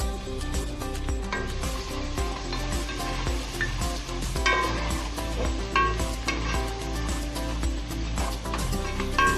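Ginger garlic paste frying in a pan, a steady loud sizzle with repeated rhythmic scraping and stirring strokes throughout.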